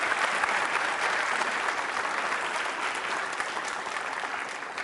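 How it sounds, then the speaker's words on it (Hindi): A university audience at a Holi-themed quiz show breaks into dense, continuous applause, a steady wash of many hands clapping at moderate distance for several seconds. "इस नवीन जानकारी के लिए तालियां बजा सकते हैं जोरदार तरीके से आप"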